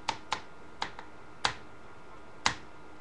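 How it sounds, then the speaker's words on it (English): A computer keyboard struck by hand gives about six sharp, irregularly spaced clicks and knocks over three seconds, close and fairly loud against a quiet background with no talking. "I hit the keyboard and the camera shook"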